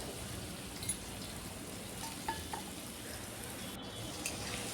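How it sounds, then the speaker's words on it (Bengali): Cut potato pieces fry in hot oil with a little turmeric in a home kitchen, giving a quiet, even sizzle with a few faint clicks and no voices. "তেলটা খুব ভালোভাবে গরম হয়ে যাওয়ার পর দিয়ে দিচ্ছি সামান্য হলুদের গুঁড়া দিয়ে পনিরের জন্য যে আলুটা কেটে রেখেছিলাম একটু বড় করে এই আলুটা ভেজে নিচ্ছি।"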